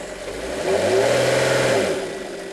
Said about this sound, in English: You give it a bit more throttle, then the internal combustion engine kicks in